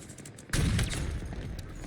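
Rapid gunfire in Halo Infinite, a quiet start broken by a loud burst of shots that continues as a dense, sustained fusillade.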